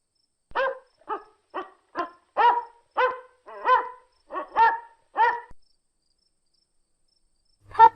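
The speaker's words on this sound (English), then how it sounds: "dog," A domestic dog barks about a dozen times in a quick, fairly regular series, close and loud against a silent background, followed by a short pause and one more brief sound.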